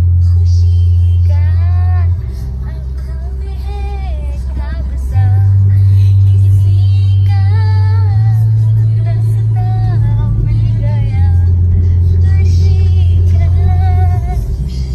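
A car driving on a road, heard from inside: loud, steady low engine drone that shifts pitch a few times as it changes speed, with people chatting and laughing over it throughout.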